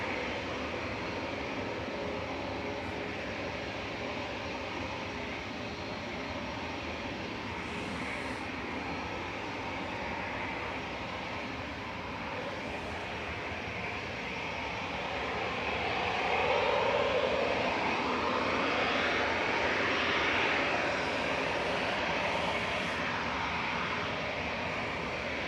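Boeing 777 jet engines at Manchester Airport give a steady, broad roar that swells louder for several seconds midway before settling back, heard at a distance with no voices.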